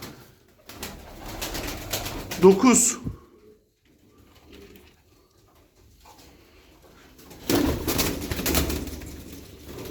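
Turkish tumbler pigeons cooing softly up close in a coop among rustling and shuffling, with someone speaking over parts of it.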